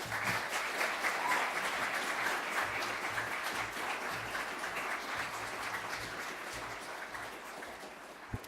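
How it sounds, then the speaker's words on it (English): Sustained audience applause at an awards ceremony, dense and steady throughout, fairly loud and close, easing slightly toward the end. "can we please keep that applause going"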